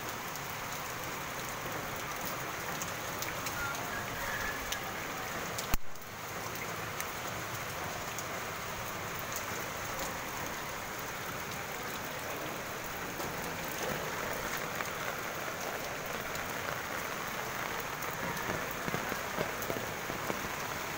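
Steady rain pattering on a hard surface, continuous and fairly close, with one brief sharp knock partway through; rainwater running off the street and flooding back deep.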